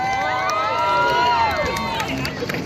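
A crowd at an outdoor street thrill show erupts in loud cheers and high-pitched screams, many overlapping shrieking voices sustained and then gradually trailing off.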